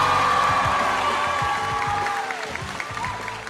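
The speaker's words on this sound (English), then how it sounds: "Massive round of applause for everybody who took part" Audience at a Comic Con in Dublin clapping in a sustained round of applause that slowly fades, with a few scattered voices in the crowd.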